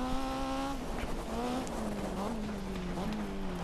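Race car engine revving with shifting pitch and tire squeal as the car crashes in the rally racing video game Dirt 2, loud and continuous throughout.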